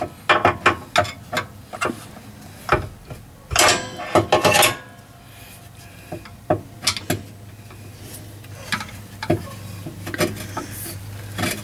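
A hand ratchet clicks in short bursts while trying to turn the rear differential plug on a 2005 Jaguar X-Type, with metallic clatters and a few louder knocks between rapid pawl ticks, close up and without talk.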